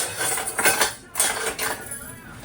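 A metal spoon clinks and scrapes against a dish while serving gravy for a big home breakfast, several close bright taps and rattles in quick succession, with no one speaking.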